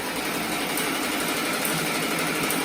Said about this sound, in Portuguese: Já ofereceram para pôr um motor nessa máquina, eu que não quis, daí que eu gosto de pedalar.